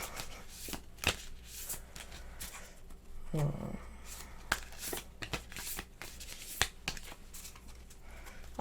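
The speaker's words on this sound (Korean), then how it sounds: "이렇게 좀 멋있게 셔플을 착착착착 해야 되는데" A deck of oversized playing cards is shuffled by hand, with soft riffles and sharp snapping clicks scattered across several seconds, fairly close.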